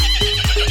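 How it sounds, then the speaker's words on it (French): A short, loud horse whinny with a wavering, shaky tone, heard alone and close. "Le cheval."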